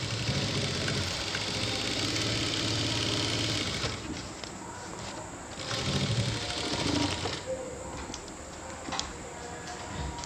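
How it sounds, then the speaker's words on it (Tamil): A sewing machine stitches the bottom gusset of a natural jute bag, its steady rapid mechanical whir running loud and close, easing off briefly in short pauses between runs, with no talking. "நான் வந்து ஸ்ட்ராங்காக இருக்கணுங்கிறத 2 தையல் ஓட்டிக்கிறேன்."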